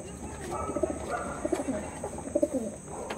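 Old-generation Andhra pigeons coo softly, their low rolling calls coming in repeated bursts from close by with faint chirps mixed in and a thin steady whine running behind them.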